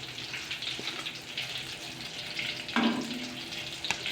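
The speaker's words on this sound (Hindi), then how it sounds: "ये हमारे बेबी बैंगन फ्राई हो चुके हैं।" Baby eggplants frying in hot oil for achari baingan give a steady sizzle, broken by a sharper splash or clatter midway as the pieces are handled.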